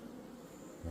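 Honeybees buzz during a hive inspection of a weak colony, a faint, steady droning hum with a low thump at the very end and no speech.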